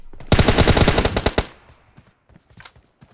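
A rapid burst of automatic gunfire from PUBG Mobile, a dozen or so loud close shots in quick succession, then fading into a few scattered faint noises.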